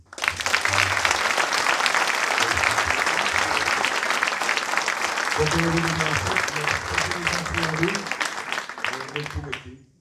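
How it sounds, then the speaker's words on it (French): A crowd applauds steadily for a long stretch, with a voice talking over the clapping partway through. "Vous pouvez les applaudir."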